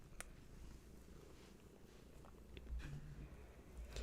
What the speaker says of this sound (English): she knows when to bring them purrs